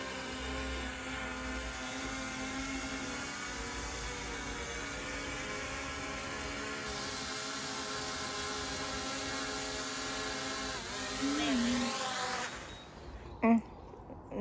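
A DJI Mini 5 Pro drone flies over the Lake District, its propellers giving a continuous high, even whine with steady tonal layers, moderately loud throughout, before a brief rustle and a couple of knocks at the very end.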